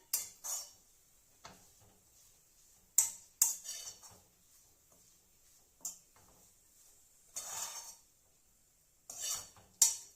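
A spoon stirs amaranth leaves heating in a pan, giving sharp metallic scrapes and taps. They come in irregular bursts with quiet gaps between, close and clear, with a faint sizzle and no voices.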